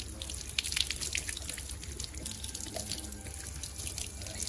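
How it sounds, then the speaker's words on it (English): Water from a running tap splashes and drips over a Samsung T7 Shield portable SSD and hands being washed under it, a close, continuous spattering trickle with small irregular splashes. "washing my hands and washing the SSD Samsung T7 Shield"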